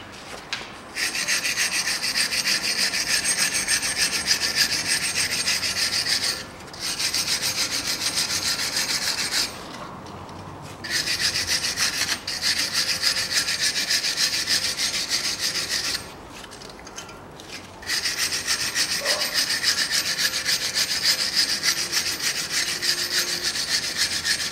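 The front wheel hub of a 2016 BMW X3 2.0 is scrubbed clean during brake disc replacement, a steady close abrasive rubbing that runs in long bursts broken by several brief pauses.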